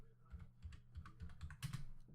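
Rapid keystrokes on a computer keyboard as a router configuration command is typed, a quick run of clicky taps close by, ending in a slightly louder burst of keys.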